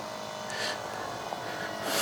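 A small Eachine F4U Corsair 500mm RC plane in flight gives a steady, thin electric propeller whine that swells slightly toward the end, carried at a moderate distance.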